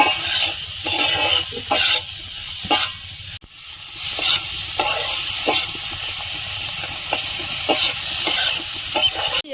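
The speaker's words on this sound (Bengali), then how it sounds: "মাছের মশলাটা কষিয়ে নেব লোহার কড়াই তাড়াতাড়ি গরম হয়ে যায়" Fish masala of turmeric, cumin, coriander and Kashmiri chilli powders fries loudly in a hot iron kadai, with a continuous sizzle and hiss broken by repeated sharp scrapes and knocks of the stirring spoon.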